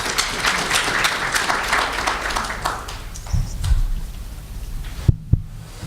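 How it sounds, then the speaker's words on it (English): An audience at a resilience forum applauds a panel with a dense wash of clapping that thins and tapers off after a few seconds, followed by a couple of louder thumps near the end. "Round of applause, please."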